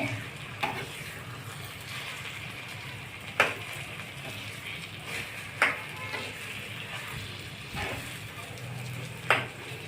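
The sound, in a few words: sautéing raw mango and green chili in a pan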